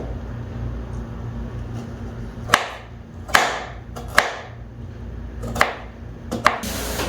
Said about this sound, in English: Let's start chopping the onion.